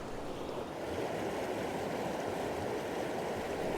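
A river near hot springs in Benguet runs in a steady, even rush of flowing water that stays constant and moderately faint throughout, with no voices.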